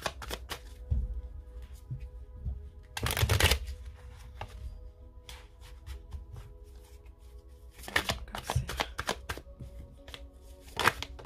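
Tarot cards are shuffled at close range in several loud, rapid riffling bursts, separated by quieter handling and light taps of the deck.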